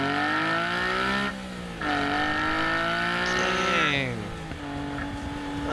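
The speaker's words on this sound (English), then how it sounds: "totally dominates the driving experience with some of the nastiest, filthiest, dirtiest, most outspoken engine noises" A Honda Beat kei car's small engine revs hard and high, pitch climbing and falling in rising sweeps with a brief drop between pulls, loud and close with no talk.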